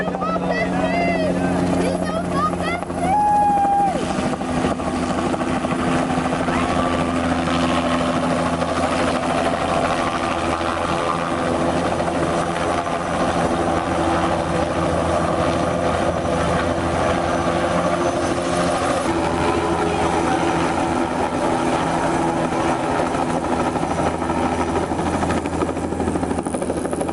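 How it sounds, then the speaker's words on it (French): A helicopter landing nearby in Rio de Janeiro, its loud steady rotor and engine drone continuing throughout, with people talking over it. "Il y a un hélicoptère, regarde, il va se poser là, juste devant nous."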